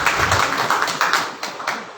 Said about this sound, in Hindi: ताली बजाओ जोर से यीशु राजा के लिए